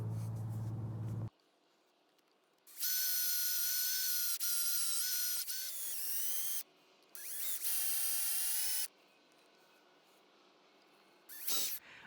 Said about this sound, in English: So now we're going to take the drill and drill these out